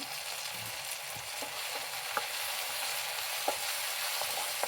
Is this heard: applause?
no